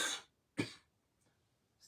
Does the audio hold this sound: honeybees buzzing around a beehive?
no